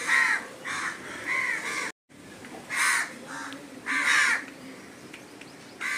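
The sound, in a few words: crows cawing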